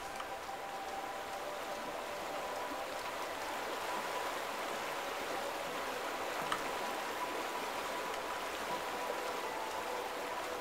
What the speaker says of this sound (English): Little brook that feeds into the river.